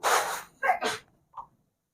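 A single sharp human sneeze, close and fairly loud, with a breathy intake before it and a faint short sound after, then near silence.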